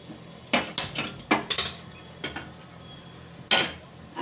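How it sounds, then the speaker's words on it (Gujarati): An iron griddle is set on a kitchen gas stove, several sharp metallic clanks and knocks in quick succession, then one more clunk after a pause, close and clear with no talking. "આપણે આ લોઢી માંડશું"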